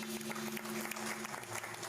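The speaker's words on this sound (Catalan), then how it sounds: "Sona la claca, sonen aplaudiments" A short burst of clapping from a small crowd at a vermouth event in a hall, fairly close and moderately loud, with a steady hum in the background.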